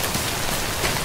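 Steady rain pours down in the video game Death Stranding, a dense, even hiss of drops hitting surfaces that fills the short stretch without any voices.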